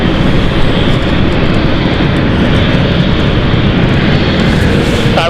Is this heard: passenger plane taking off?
yes